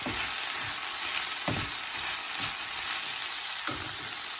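A bean curry with coconut powder stirred in a pan, a steady close sizzle with occasional soft scrapes of the spoon, no voices.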